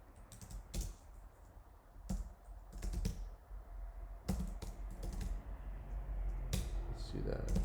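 Commands being typed on a computer keyboard, a close, uneven run of key clicks with sharper taps and pauses between bursts, over soft room noise.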